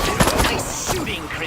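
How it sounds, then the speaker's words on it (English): Alien weapon fire in the Destroy All Humans remake, a quick flurry of zapping shots and bursts over about a second and a half, busy and close with overlapping sci-fi effects. "Nice shooting, Crypto."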